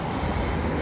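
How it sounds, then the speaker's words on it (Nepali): A train pulls into a railway station with a steady, heavy, low rumble that stays even and close throughout, with no voices over it. "हेर्न सक्नुहुन्छ ट्रेन आउँदैछ"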